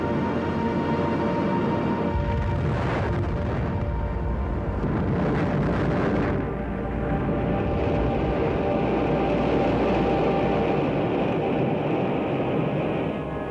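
An Atlas-Centaur rocket launch that malfunctions and explodes, heard as a continuous loud broadband roar that swells and rumbles before thinning to a sustained distant rush.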